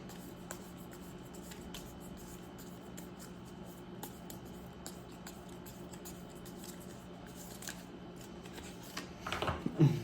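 Soft, faint shuffling and scraping of a tarot card pulled from the deck, a continuous quiet rustle that swells into a brief louder flurry of handling near the end, with no talking.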